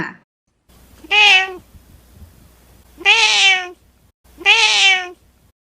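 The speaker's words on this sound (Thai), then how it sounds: "ฟังเสียงร้องของแมวแล้วมาดูเสียงญี่ปุ่นกันบ้างนะคะ" A cat meows three times, loud and close, each drawn-out cry separated by a pause of quiet.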